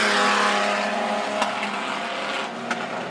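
An outlaw sedan race car laps Macs Speedway during a night title meeting, its engine a steady loud roar throughout with brief sharp bursts as it passes near.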